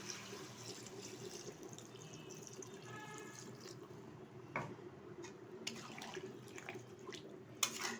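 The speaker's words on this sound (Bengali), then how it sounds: "এখন দিয়ে দিচ্ছি এখানে পরিমাণ মতো জল।" Water is poured into a pot of ghee mutton, a soft, faint splashing and trickle with a few small clinks, heard close in a quiet kitchen.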